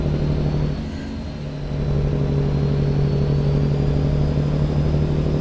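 Default truck engine in American Truck Simulator, a steady low drone with a mid-range hum, dipping briefly before holding a constant running level.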